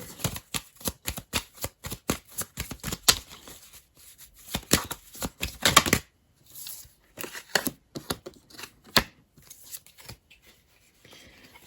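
Tarot cards being shuffled by hand, a steady run of crisp riffles and slaps close up, pausing briefly midway before resuming in shorter bursts.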